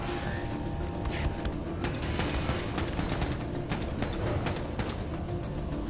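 Rapid gunfire with armor-piercing rounds in Wolfenstein II rattles in dense, repeated bursts of sharp cracks over steady game background noise.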